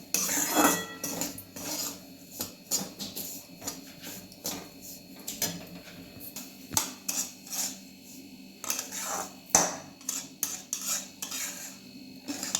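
Fine semolina being dry-roasted in a pan, a metal spoon scraping and clinking against the pan in irregular strokes, close by and fairly quiet, with no talking.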